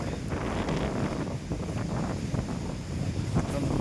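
Strong wind gusts over the Kotebetta hilltop in Coorg, buffeting the microphone with a continuous loud roar and faint bursts that rise and fall, and no words spoken.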